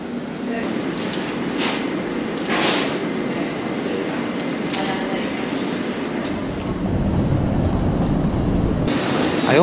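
Steady rumble and rattle inside a moving Lumo train, a continuous low roar with occasional clicks and knocks from the carriage, with faint voices in the background.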